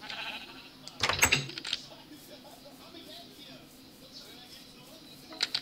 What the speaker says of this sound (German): Oh, das Schaf kommt in die Nähe.